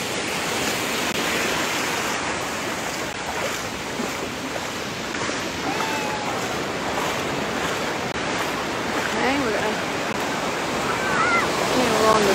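Ocean waves roll onto a busy beach at Wildwood as the tide comes in, a steady broad wash of surf with wind rumble, continuous and fairly loud throughout.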